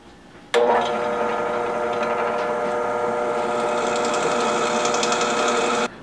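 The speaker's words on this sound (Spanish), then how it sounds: "vamos a ir al taladro a hacer los agujeros." A power drill starts abruptly and runs at a steady whine for several seconds while drilling holes in a metal plate, then stops; close and loud with no talking.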